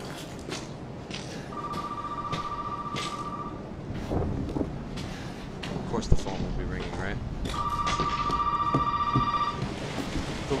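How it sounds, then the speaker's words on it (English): A telephone rings in Resident Evil 7, two long bursts of electronic trilling several seconds apart over dim game ambience with thuds and rumble, while a voice talks between and over the rings. "The phone's ringing."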